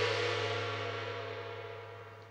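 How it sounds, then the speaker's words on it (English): A gong-style car horn from the Forza Horizon 5 racing game sounds as a single sustained, ringing metallic tone, quiet and fading slowly over about two seconds with no other sound. "the gong car horn, which sounds a bit like this"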